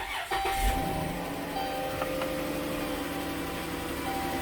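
A car engine with 158,000 miles that was once run low on oil, heard close up as it starts and settles into a steady idle, with a faint high whine and a light ticking running through it.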